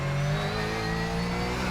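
A Porsche 911 GT3 Cup race car engine in iRacing at Bathurst roars steadily with a sustained, slightly rising pitch and a high mechanical whine, no voices over it.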